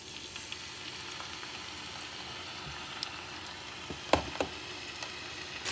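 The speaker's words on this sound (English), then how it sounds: "And I'm going to start adding the fish." Fish sizzling steadily in hot oil in a pan on medium-high heat, a constant crackling hiss with a few sharper pops and spatters near the end, no talking.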